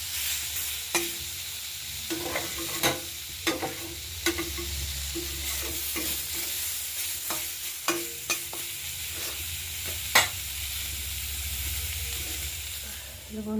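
Potatoes frying in a pan with spices, stirred so that a steady sizzle runs throughout, broken by repeated scraping clicks of the spoon against the pan, close and fairly loud, with no talking.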